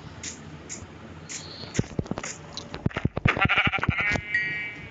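A Minecraft sheep bleats in short, rising-and-falling bursts, with clicky in-game hit and step sounds scattered around it.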